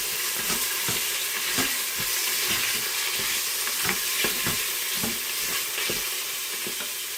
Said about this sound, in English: add in my pork. And I'm just going to give that a stir